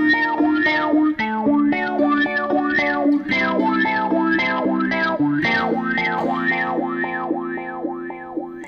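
Electric guitar through a Sonuus Wahoo effects pedal, a distorted riff with a rhythmic wah sweep pulsing over the notes, chorus and a touch of echo, played steadily up close with no voices.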